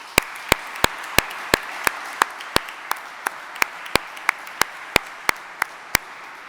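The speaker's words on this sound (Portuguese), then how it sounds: "um forte aplauso neste momento." Evenly spaced, crisp hand claps at a book presentation repeat at a slow, steady pace, about three per second, with no voices over them.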